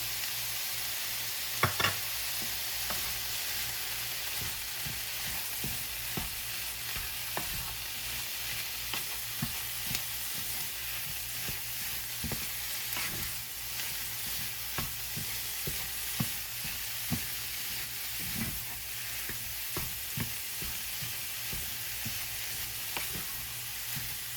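Food sizzles steadily in a pan after a sprinkle of garlic powder, onion powder, ground mustard, paprika and chili powder, a soft continuous frying hiss broken by occasional stirring clicks, with no talking.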